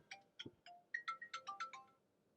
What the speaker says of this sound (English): Phone, leave me alone.